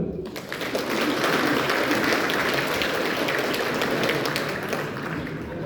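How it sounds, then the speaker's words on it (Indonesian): Audience at the inauguration ceremony of Malang Regency DPRD members for 2024-2029 applauds in a steady, moderately loud crowd clapping that builds quickly and holds, with some murmured voices underneath. "Tepuk tangan dulu."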